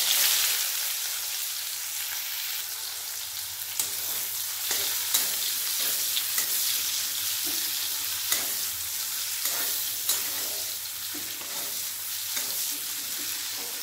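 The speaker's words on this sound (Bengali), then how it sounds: "ওই তেলের মধ্যে দিয়ে দেবো গোটা জিরে, একটা তেজপাতা আর একটা দিয়ে দেবো মিহি করে কুচনো পেঁয়াজ" Finely chopped onion, whole cumin and a bay leaf fry in hot oil, a loud dense sizzle up close punctuated by regular stirring scrapes.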